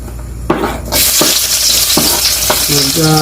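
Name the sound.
garlic sautéing in oil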